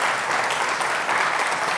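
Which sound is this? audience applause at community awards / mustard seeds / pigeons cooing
audience applause at community awards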